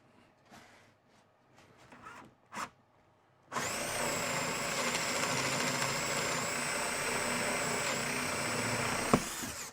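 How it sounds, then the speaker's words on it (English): Power drill boring a hole through a PARF Guide Mk2 while mounting a Kreg K5, starting after a few quiet handling clicks and then whirring loudly and steadily for about six seconds. "and we drill"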